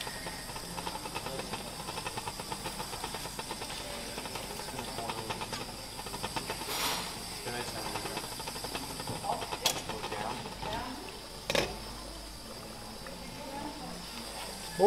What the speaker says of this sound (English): from the freezer into the boiling water straight away